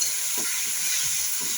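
Chicken frying in oil with masala for Hyderabadi garlic chicken: a steady, close sizzling hiss with a few soft stirring bumps underneath.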